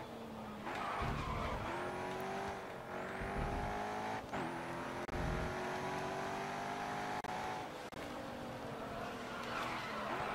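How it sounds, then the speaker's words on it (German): A Bugatti race car in the video game GRID Autosport, its turbo engine climbing and whining through repeated gear changes with rising pitch sweeps, loud and continuous, with brief tire noise between shifts. "Turbo Sound ist so richtig schön von dem Bugatti."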